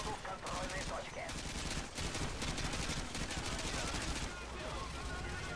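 Dense, continuous gunfire rattles in Call of Duty Modern Warfare 2, with rapid shots and bursts overlapping throughout at a fairly quiet level, mixed with some game noise.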